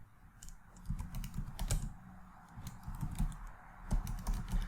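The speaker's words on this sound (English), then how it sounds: "I will type the password here on the screen now." Someone types a password on a computer keyboard, keys clicking close up in quick irregular runs with brief pauses and no talking.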